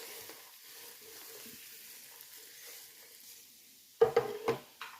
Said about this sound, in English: Now going to cook the onions, garlic and ginger until the onions become lightly brown.